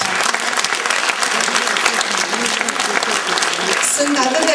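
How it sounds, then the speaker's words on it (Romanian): Audience applause honoring Romanian stars at a televised show, dense steady clapping filling the room, close and loud throughout with some voices mixed in. "aplaudați, vă rog, stelele a românești"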